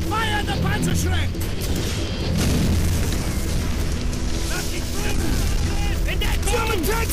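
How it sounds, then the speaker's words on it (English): A Panzerschreck rocket is launched and bursts in a Call of Duty: World at War battle, a heavy boom rolling through dense, continuous wartime noise with shouting voices and clanking mechanisms throughout. "Fire the Panzerschreck."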